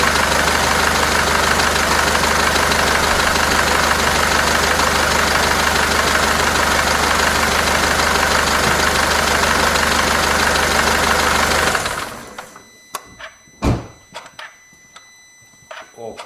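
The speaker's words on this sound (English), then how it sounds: "next step is to start my engine, that we can check those leaks" A car engine idles steadily after a radiator hose repair with a new seal gasket, a constant close rumble for about twelve seconds before cutting off, followed by a few scattered clicks and knocks.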